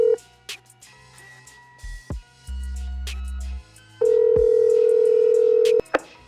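A prepaid prison phone call connecting: a series of touch-tone dialing beeps followed by steady telephone tones, one low and one higher, each held for about a second or two, with faint background clicks.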